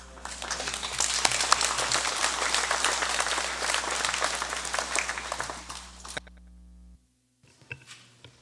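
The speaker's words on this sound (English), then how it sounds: "Joseph, Mayor Dot, May I ask if we can give them a round of applause?" Sustained applause from members at a session of the FSM Congress, dense steady clapping for several seconds before cutting off abruptly into near silence.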